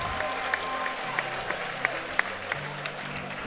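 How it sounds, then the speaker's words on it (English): A fight-night crowd rises in a standing ovation, giving steady, moderately distant applause with scattered sharper claps over a dense crowd hum. "Standing ovation from the crowd here."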